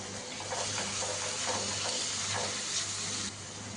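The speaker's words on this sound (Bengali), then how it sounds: "মশলাটা ভালো করে কষিয়ে নিই যতক্ষণ তেল না ছাড়ে।" Spice paste sizzles and fries steadily in hot oil in a pan for a prawn curry, close and continuous, with faint stirring scrapes.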